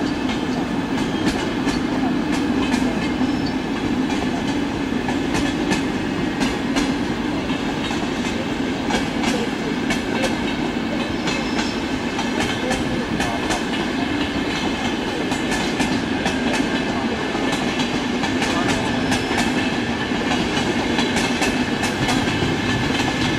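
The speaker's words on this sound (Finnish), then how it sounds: "No niin, siinä menee meidän yöjuna." A night train rolls past on the rails, its steady loud rumble and clickety-clack of wheels filling the whole stretch without a break, close by and continuous.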